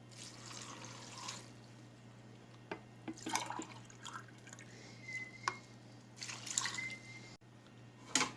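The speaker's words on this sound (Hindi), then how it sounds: "2 गिलास पानी डालेंगे" Water is poured into a pan of chicken karahi with onion, tomato and ginger-garlic paste, in several short splashing, trickling bursts with pauses between them, fairly close and quiet.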